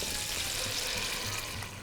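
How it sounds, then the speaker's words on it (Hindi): Water poured into a pan of sizzling fried garlic, ginger and onion, a loud steady hiss and bubbling crackle lasting the whole moment. "थोड़ा सा पानी डालेंगे भाई।"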